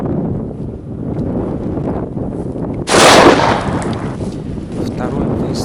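A single sharp Saiga MK 223 rifle shot fired at roe deer during a hunt, loud and close, cracking out of steady wind noise and leaving a short echoing tail.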